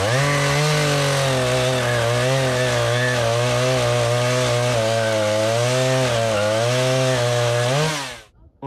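A battery-powered saw trims wood for a bench at an off-grid mountain cabin. It buzzes steadily for about eight seconds, loud and near, then winds down and stops.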